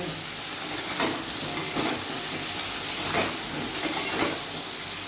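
Diced potato, papaya and carrot frying with onion and tomato in a pan, a steady broad sizzle with periodic louder bursts as the pieces are stirred, close and alone without talk.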